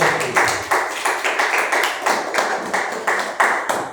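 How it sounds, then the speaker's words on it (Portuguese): Rhythmic hand clapping in praise from a church congregation, sharp regular beats a little over two per second, close and loud with no talk over them. "As palmas louvam ao Senhor."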